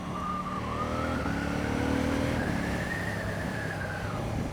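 A KTM motorcycle engine with a quickshifter accelerating hard, its rising engine note climbing through gear changes over steady wind rush.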